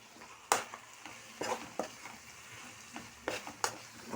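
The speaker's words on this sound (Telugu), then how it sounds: "ఒకసారి తిప్పుకుందాం." Mint and coriander being stirred into a mushroom biryani in a pot: a few sharp scraping stirs stand out over a low, steady sizzle, with no talking.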